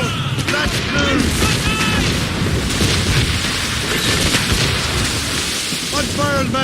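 Heavy cannon fire from sailing warships in a naval battle in Assassin's Creed Rogue. Loud booms run on without a break in a dense, rumbling wall, and crew voices shout over the barrage.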